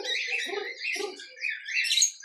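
Birds in an aviary, including parrots, chirping and squawking in overlapping bursts, fairly faint and high-pitched, with no talk.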